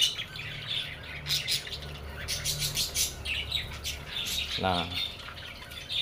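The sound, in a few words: parakeets in bamboo nest box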